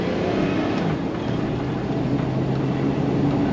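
A Chevy Silverado with the 4.3 engine, running with a misfire fault, is driven at wide open throttle, its engine giving a steady, loud drone under continuous road and wind noise heard from inside the cab.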